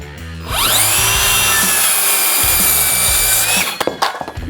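A WORX 20V ExacTrack cordless circular saw spins up to a loud, steady whine as it cuts through a 2x4 of lumber, then winds down with a few clunks as the cut finishes and the board is handled.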